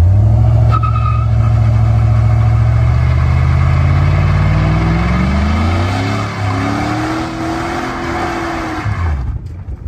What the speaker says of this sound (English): Is that a good burnout?